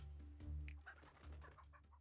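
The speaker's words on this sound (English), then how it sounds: "Chicken farm is now producing eggs" Chickens at a chicken farm in the video game Laysara: Summit Kingdom cluck in short, soft repeated calls over a low steady game hum, with no talking.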